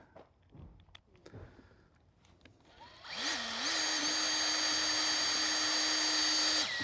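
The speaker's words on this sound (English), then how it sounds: "we'll hold it in place as we drive in screws once again" A power drill drives screws into floor joists during a ranch house renovation. After a few seconds of quiet handling knocks, a loud, close, steady high-pitched motor whine runs continuously to the end.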